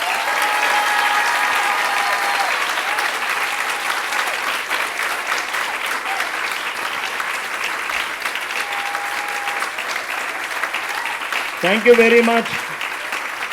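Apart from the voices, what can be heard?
audience applause at a festival program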